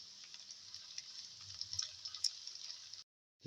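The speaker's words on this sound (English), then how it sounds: "Keep on sauteing." Chicken liver and okra with mint leaves and salt sautéing in a pan, a steady soft sizzle with faint ticks and stirring clatter, close and quiet, cutting to silence near the end.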